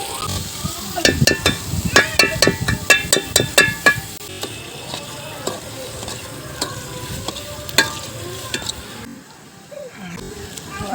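Green chillies frying in hot oil, close crackling pops in a fast burst for the first few seconds, then a quieter continuous sizzle with occasional clinks.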